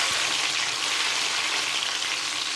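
Onion and tomato sizzle steadily in a hot pan, a continuous close, loud frying hiss with no talking.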